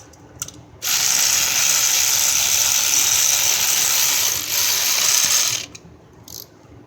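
A ratchet wrench tightening spark plugs on a VW CC 2.0T engine, a rapid continuous clicking run of about five seconds, close and loud, with a brief pause near the end and short clicks before and after.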